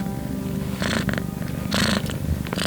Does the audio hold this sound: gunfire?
no